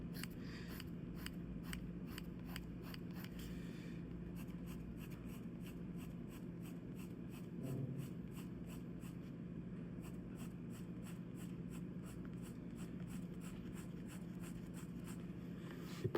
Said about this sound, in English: cross hatching.